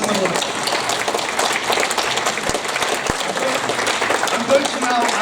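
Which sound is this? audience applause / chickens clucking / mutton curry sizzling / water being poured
audience applause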